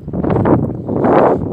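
Gusty beach wind buffets the microphone in two loud rumbling surges, close and blustery, with no voices, at Frontignan beach.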